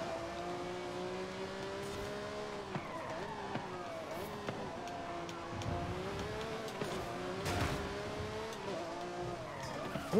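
Car tires skidding in the Forza Horizon 5 racing game, a continuous engine drone with wavering tire squeals and revving shifts across ten seconds, heard fairly faintly.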